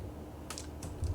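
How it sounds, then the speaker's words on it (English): Quick taps on a computer keyboard while code is typed, a few light clicks in small bursts, close and alone, with no voice over them. "let me type this out"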